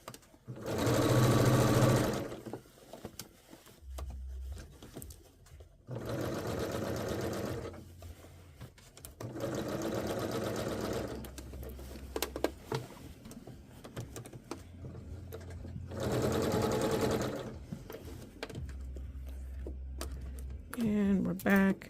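A home sewing machine stitches facings on a Vogue 9292 garment in bursts of rapid, steady whirring, pausing between runs, with a person speaking softly in the gaps.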